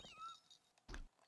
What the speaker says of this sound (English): Yeah, you can throw cats at people.